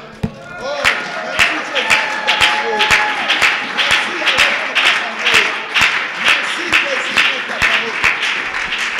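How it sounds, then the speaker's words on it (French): A congregation at a church prayer and teaching seminar applauds: loud, steady rhythmic clapping with regular beats, crowd noise, and voices mixed in throughout. "Est-ce qu'on peut acclamer cette parole? On l'acclame."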